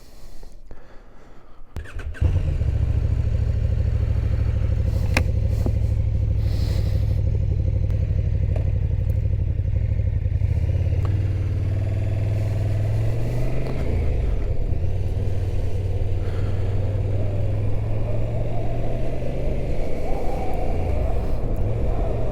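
Motorcycle riding along the A68 road toward Jedburgh in Scotland, a steady close engine drone with road and wind rumble that settles in after a brief quieter start and holds throughout.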